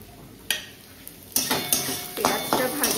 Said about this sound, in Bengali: এবার ডিমগুলোকে ভালো করে ম্যাশ করে নেব। কাঁটা চামচ দিয়ে না খুব ইজি হয়।